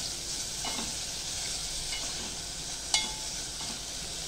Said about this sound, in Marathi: आता हे टोमॅटो मी चांगले परतून घेणार आहे.